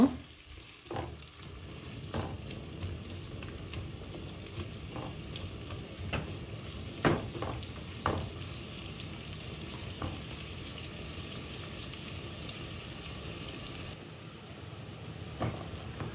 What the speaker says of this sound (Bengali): আর স্বাদ মতো আমি লবণ দিলাম তখন রে আমি একটু সময় ফ্রাই করে নিব